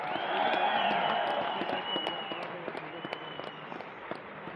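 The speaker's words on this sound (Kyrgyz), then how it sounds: "Кана кол чабуулар бар бекен?" A large outdoor crowd at a Jalal-Abad regional welcome for President Japarov breaks into loud, dense applause with scattered cheers and a whistle, then the clapping thins into sparse claps.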